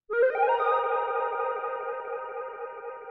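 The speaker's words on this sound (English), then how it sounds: "adding a bit of chorusy vibrato. And then this Empress reverb, doing a combo of delay and reverb." A sustained synthesizer chord from a Moog Mavis swells with a wobbling chorus shimmer, then rings out under a wash of echoing delay and reverb from an Empress pedal, alone and fairly loud.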